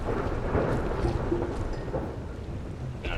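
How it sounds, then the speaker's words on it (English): A thunderstorm in Skull Island: Rise of Kong gives a low rolling rumble of thunder over steady rain hiss, moderately loud and continuous. "And a thunderstorm, it sounds like."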